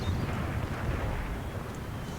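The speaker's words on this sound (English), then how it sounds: "let's aim for these clumped up units with our mortars" Mortar fire during a siege battle in Empire: Total War rolls as a dense, continuous low rumble of distant booming blasts, heavy and steady with no clear separate shots.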